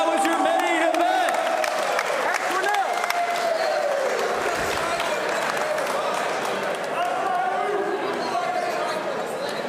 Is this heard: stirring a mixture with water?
no